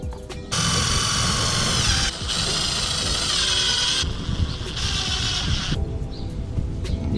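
A power drill drives self-tapping screws into the side skirt of a Mustang GT, whirring loud and close in three sustained bursts separated by short pauses, with a steady low rumble running underneath.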